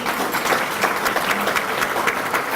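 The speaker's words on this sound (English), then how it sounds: "Let's give yourselves a hand clap." Audience of parents, guardians and family at an annual memorial banquet giving a steady round of hand clapping, dense and continuous throughout.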